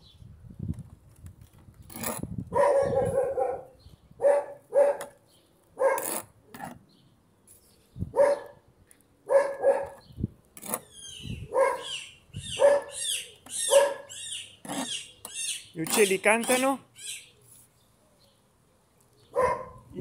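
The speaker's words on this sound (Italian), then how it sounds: "il mio cane abbaia." A dog barks repeatedly in a yard, with short loud yaps spaced irregularly and then coming in a quicker burst, close by and mostly alone.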